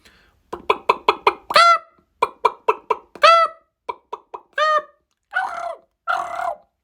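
A voice imitates a chicken clucking, giving quick clusters of short, sharp clucks that end in a drawn-out squawk, repeated twice, then a few looser clucks and two longer calls, loud and close.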